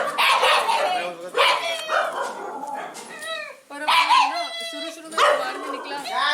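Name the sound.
dogs barking at a dog shelter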